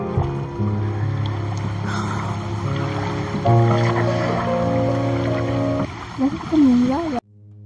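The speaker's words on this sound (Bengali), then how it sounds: "মাঝি কাকু আমাদের স্রোতের উল্টো দিকে খুব কষ্ট করে বয়ে নিয়ে যাচ্ছে নৌকাটা" A wooden boat rowed upstream against a strong current on the Teesta near Gajoldoba, with a steady low motor-like drone, splashing and creaking throughout and a voice speaking over it.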